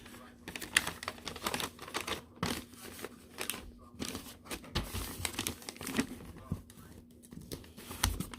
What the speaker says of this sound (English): So just add a little tape, not too much.